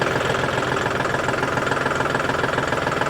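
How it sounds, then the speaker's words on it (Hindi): A John Deere 5050 turbocharged tractor engine runs close and loud with a steady, even diesel chug, alone and without any voices. "जैसे मैं रेस को रेव करता हूँ ना, तो उसका कंपैरेटिवली इसका रेस्पॉन्स थोड़ा सा क्विक डिलीवर होता है, क्योंकि मैंने आपको बता दिया टर्बो चार्जर ट्रैक्टर के अंदर लगा हुआ है।"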